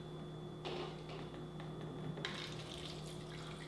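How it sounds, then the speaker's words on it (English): Kangen water poured into a glass holding a tea bag, a soft steady trickle and splash running throughout at low level, with a brief brighter surge of pouring near the end over a faint background hum. "I'm going to put it right here in this glass, and I'm going to use Kangen water."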